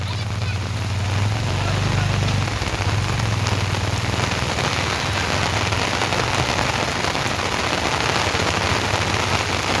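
Heavy first monsoon rain in rural Gujarat pours down without pause, a loud, dense rattle of drops drumming on surfaces close by, with a low rumble early on and distant voices under it.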